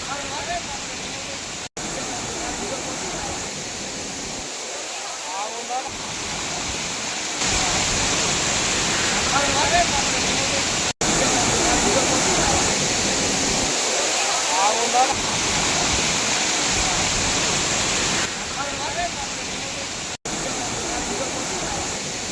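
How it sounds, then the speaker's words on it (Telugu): Amboli waterfall in the Western Ghats, a broad steady roar of falling water that holds loud and continuous throughout, with people talking over it at times. "సో ఇదే అంబోలి వాటర్ ఫాల్స్"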